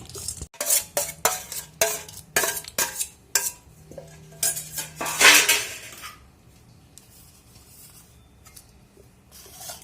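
A spoon stirs cooked rice with roasted coconut and cashews for coconut rice, scraping and clinking against the pan in quick rhythmic strokes that stop partway, leaving near quiet.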